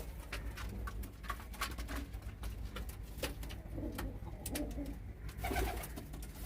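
Pet pigeons cooing in a loft, soft repeated low coos close by, with scattered clicks and shuffling wing or foot sounds between them and no talk.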